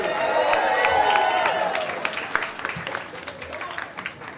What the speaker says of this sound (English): Yeah, keep clapping.